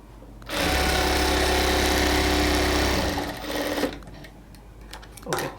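A sewing machine runs in one steady, loud burst of about two and a half seconds, stitching a folded hem of saree cloth for a kameez. It then stops, followed by quieter fabric handling.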